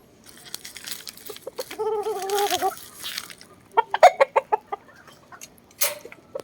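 A large Boston broodcock rooster in a backyard breeding setting gives a run of short, close clucks and a drawn-out warbling call, with a few sharp rustling knocks between the sounds.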